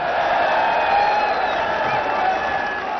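A large Pakistani political rally crowd at Minar-e-Pakistan in Lahore claps and cheers. The applause is a steady, loud, continuous wash of sound with no voice over it.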